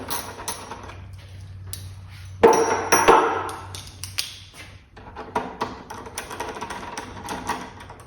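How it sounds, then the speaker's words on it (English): Ratchet with a bit loosening the rack mount screws on a Honda CB500X motorcycle, a quick burst of clicking and metallic taps up close, then lighter scattered clicks and handling noises. "I just happen to have a bit for my ratchet here. Start by taking these two screws out."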